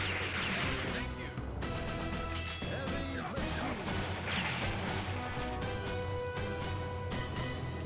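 A grenade blast in an original Xbox game, heard as crashing bursts and thuds scattered over steady game music and effects, with several loud hits across the stretch.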